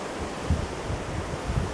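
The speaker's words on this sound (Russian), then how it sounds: "Ох и ветер." Strong autumn evening wind gusting through swaying tree branches outdoors near a lake, a broad rushing roar with buffeting thumps against the microphone.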